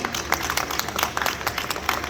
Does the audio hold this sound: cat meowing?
no